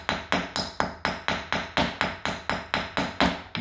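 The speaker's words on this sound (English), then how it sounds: "me hammering this actually knocked a little bit of debris out from around it" A hammer strikes a carpet nail set in a concrete foundation, about a dozen sharp, evenly paced metallic blows in quick succession, loud and close with no talk.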